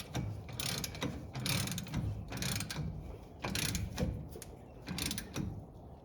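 Ratchet wrench tightening a bolt during a disc brake conversion on a 1962 Pontiac Grand Prix, several short bursts of quick metallic clicking separated by pauses, close and fairly quiet.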